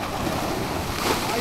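Ocean surf washes in at a small secluded Konkan beach, a brief broadband rush of breaking water with wind noise, close to the microphone.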